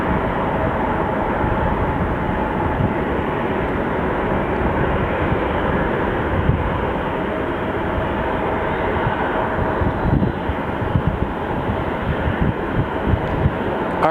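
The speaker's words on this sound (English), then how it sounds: "747 and then this plane taking off" A plane takes off at Phoenix Sky Harbor Airport, a loud steady broadband engine roar that fills the whole stretch with a low rumble underneath, heard from nearby without voices.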